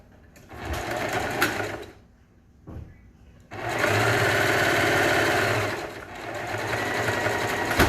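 A sewing machine stitches a three-layer cloth face mask in close bursts: a short run, a pause with a clunk, then a longer steady run.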